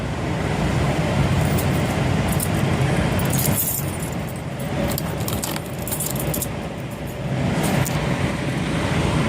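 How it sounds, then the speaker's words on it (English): Steady, loud roar of idling trucks and passing traffic fills an Indiana truck stop, with faint metallic clinks and jingles over the constant rumble. "It's amazing how loud it is at a truck stop."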